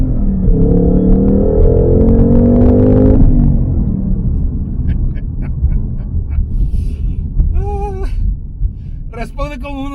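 A 2021 Ford Mustang Mach 1 V8 engine drones and rumbles loudly under driving, with harmonic engine tones rising early, then steady road rumble while people talk intermittently over it.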